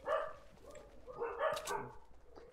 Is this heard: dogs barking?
yes